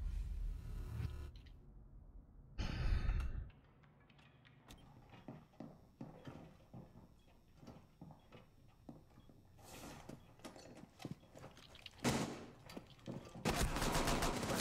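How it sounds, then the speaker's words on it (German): Pistol shots fired blind from the hip behind a shield in a Rainbow Six Siege match, several sharp bursts scattered across the clip amid clattering game sounds, fairly quiet overall. "der schießt wieder so blind mit der Pistole"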